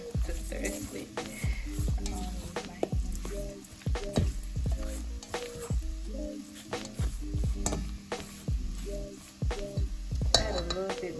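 Steak mixed with Montreal steak seasoning in a pan while being stirred, with repeated scraping, clinking utensil strokes and a faint sizzle underneath, close and steady, with a voice speaking over it at times.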